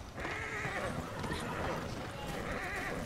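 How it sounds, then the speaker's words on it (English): A horse in the Red Dead Redemption 2 video game whinnies in drawn-out rising and falling calls amid steady hoof clip-clop and game ambience, with voices talking over the sound throughout. "This is my partner, Horse Girl. Partner in crime"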